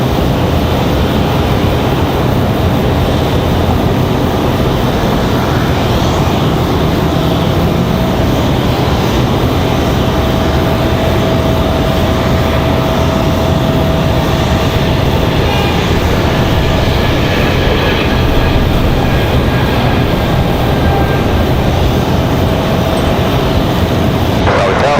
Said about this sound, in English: American Airlines 1982 coming in from Los Angeles.